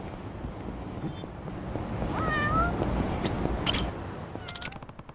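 A cat meows in Yakuza: Like a Dragon, a rising, whiny meow in the middle over a dense, noisy game background, followed by brief clicks near the end.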